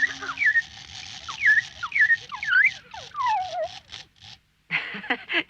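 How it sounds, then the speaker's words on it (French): A wind-up clockwork automaton whistles a chirpy series of sliding, birdlike notes in quick phrases, with brief pauses and a short silence near the end. It sounds close and clear, with a faint mechanical whir underneath. "C'est un automate. Pour qu'il siffle, il faut remonter le ressort."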